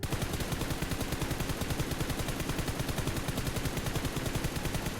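Sustained automatic gunfire in the mobile battle-royale game PUBG Mobile: a loud, rapid, evenly spaced stream of shots with no break and no voices, lasting the whole stretch.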